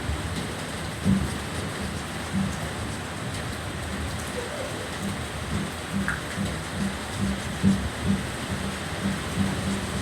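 Steady rain falls outside as a constant hiss, with faint distant rumbles and occasional drip-like taps, no voices heard.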